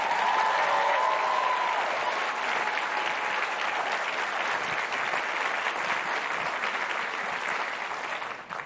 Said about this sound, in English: Now that's worthy of another round of applause.